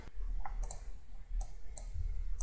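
Someone is coding in Python and typing on a keyboard. A few sharp, sparse clicks come close up over a low steady hum, with no voices.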